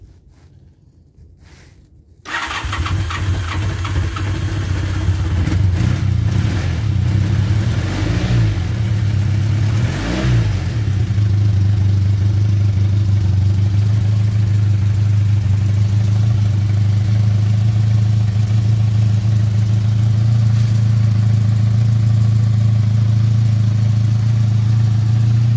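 A Honda V65 Magna motorcycle engine catches after a choke start, then idles steadily and loudly at close range, with a couple of brief revs early on and no talking.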